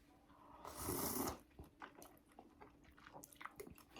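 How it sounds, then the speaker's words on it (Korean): Spicy tteokbokki eaten with a spoon up close: one loud, crunchy bite burst, then soft, wet chewing clicks and mouth sounds, with no talking. "엽떡은또 숟가락으로 먹어야죠"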